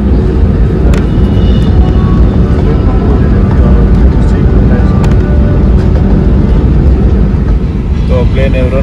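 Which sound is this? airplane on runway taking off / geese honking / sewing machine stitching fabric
airplane on runway taking off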